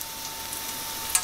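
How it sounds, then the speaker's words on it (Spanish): Chopped garlic sizzles in a hot frying pan in a home kitchen. The crackle is steady and fairly close, with a fine hiss and a few small pops, and no voices. "Ahora echamos el ajito."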